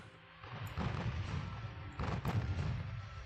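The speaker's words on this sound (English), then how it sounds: "I hear torps hitting my boys" Muffled video-game torpedo explosions against warships thud in the distance, two low booms rumbling over a steady background din.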